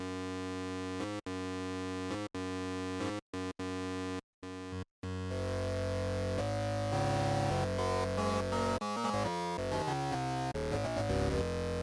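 Korg Minilogue XD synthesizer playing with its VPM oscillator set to the Fat 2 type: dense, thick sustained tones with rich overtones, first cut into choppy chords by brief gaps, then a steadier shifting sequence of notes, loud and close with no talk.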